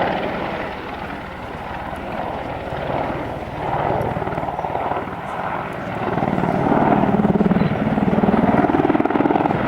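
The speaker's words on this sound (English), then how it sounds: "now repositioned for their final manoeuvre, the bow." An Apache attack helicopter hovers for its bow at the Cosford airshow, its rotor and engine making a loud, steady, thrumming roar that holds throughout and swells slightly toward the end.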